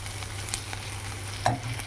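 Tomato dal with a tempering of garlic and curry leaves simmers and sizzles in a pan on a low flame, a steady soft fry with a spoon stirring and one sharper scrape near the end.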